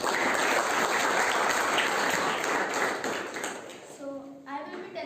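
A class claps for a student, a burst of many hands clapping in a classroom that thins out, followed by a voice speaking at the end.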